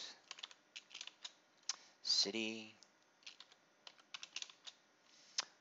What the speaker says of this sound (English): So go ahead and start typing those in.